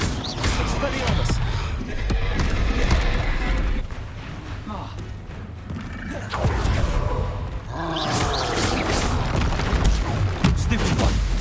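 The Expelliarmus spell cast during a duel in Hogwarts Legacy: booming magical blasts and crackling impacts in dense waves, loud and close, layered over busy combat effects with voices talking over them.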